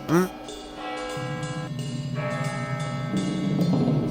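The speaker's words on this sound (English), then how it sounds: "The bell. It sounds different." A single bell strikes near the start, its tone ringing on and fading slowly beneath a low, murmuring background.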